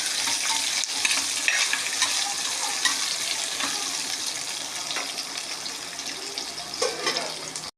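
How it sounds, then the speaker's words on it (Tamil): Onions sauté in a pan with fennel, cardamom and cloves for a soya paneer biryani, making a loud, steady sizzle broken by scraping stirs close by. "வெங்காயம் நல்லா வதகணுங்க வெங்காயம் வதக்கிட்டோம்"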